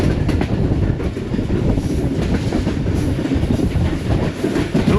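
Subak Raftar railcar running on rails between Gujrat and Rawalpindi, with a steady loud rumble and rhythmic clickety-clack of wheels over track joints throughout.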